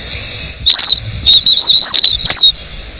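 A hand whistle mimics the thin, squealing cry of an injured animal to lure badgers on a British moorland at night, blown in several short, piercing bursts with brief pauses between.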